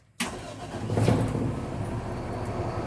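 Fire engine cab start-up: a sudden loud crank and catch after a brief silence, then the big engine settles into a steady, rumbling idle that carries on to the end.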